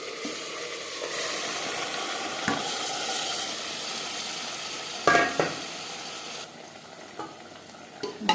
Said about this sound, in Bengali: পেঁয়াজ হালকা করে ভেজে নেওয়ার পর দিয়ে দেবো ম্যারিনেট করে রাখা মাটন।